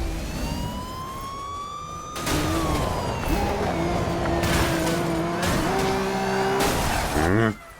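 Cars racing and roaring past in the Need for Speed Rivals video game on PS4, engine whines sweeping up and down with siren-like tones, loud and continuous, growing denser after the first couple of seconds.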